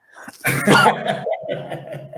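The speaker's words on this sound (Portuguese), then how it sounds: "Eu só parei para tossir." A single harsh cough bursts out close to the microphone, followed by a brief throaty exhale and a short murmur.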